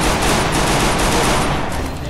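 Rapid, loud gunfire from a Free Fire ranked Clash Squad match, a continuous dense fusillade of shots close up that tapers slightly at the end, with no talking over it.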